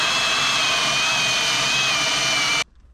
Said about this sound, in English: So I'm taking my cup drill here and drilling my first hole.